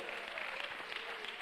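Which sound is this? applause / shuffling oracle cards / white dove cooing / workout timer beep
applause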